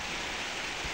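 Steady rain falling outdoors near potted orchids, a continuous broadband hiss with no distinct drops, moderately loud and unbroken, with no talking.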